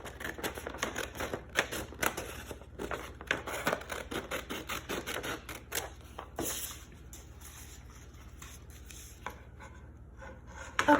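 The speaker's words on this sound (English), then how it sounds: "So from there, we're gonna cut this extra portion off." Thin embossing foil being cut away in a craft lesson, heard as a quick series of close, crisp snipping and crinkling sounds that fade into quieter handling toward the end.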